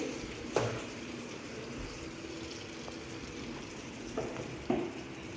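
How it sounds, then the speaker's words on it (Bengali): Whole cumin seeds and a bay leaf sizzling in hot oil in a wok, a steady low frying hiss with a few brief sharp crackles and spits, heard close with no talking. "তেল দিচ্ছি কড়ায় তেল তেজপাতা জিরে গোটা জিরে"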